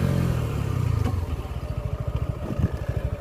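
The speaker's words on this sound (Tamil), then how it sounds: "ஷார்ட்டர் டிஸ்டன்ஸில் வந்து பிரேக் டெஸ்ட் பண்ணி பார்க்குறேன்" A Suzuki Gixxer 250 SF with ABS slows hard in a brake test, its engine dropping to a fast, throbbing idle-like pulse close to the microphone.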